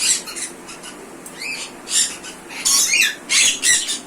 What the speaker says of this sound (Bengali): এটা হলো ইক্লেটার প্যারট